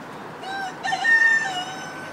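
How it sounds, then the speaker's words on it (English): A noisy guinea fowl on a rainy farm gives one drawn-out, harsh harmonic call lasting about a second, moderately near, over steady background hiss and with no talking. "There's one of those really noisy guinea fowls."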